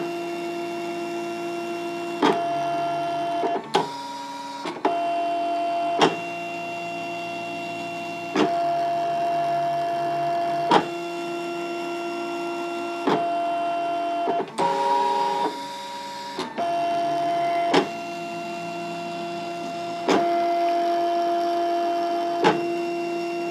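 A Brother ScanNCut cutting machine whirs steadily and close for a long stretch, with repeated clicks and brief changes in motor pitch as its carriage moves and changes direction, and no one talking.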